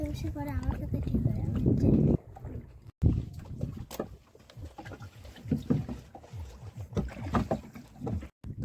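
A fishing boat on a Sundarbans river, water sloshing against the hull and a low, continuous engine-like drone close by, with people talking over it throughout.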